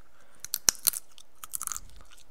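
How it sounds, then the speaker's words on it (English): A sunflower seed is chewed close up in quiet surroundings, giving a series of small, sharp crunches and bites that come in short irregular bursts. "I'll chew a sunflower seed."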